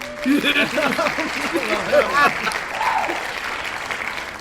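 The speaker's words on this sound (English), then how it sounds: "I'll the thing. give the round of applause" Applause breaks out during a casual podcast conversation, a steady crackle of clapping that runs through the clip while voices keep talking over it.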